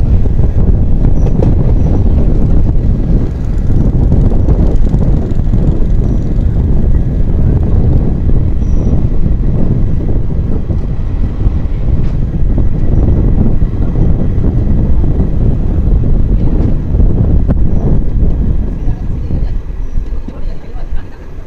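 Inside a coach of the 18044 Bagha Jatin Express from Bhadrak to Howrah, a loud, steady rumble and rattle of the running train continues throughout, with wind noise.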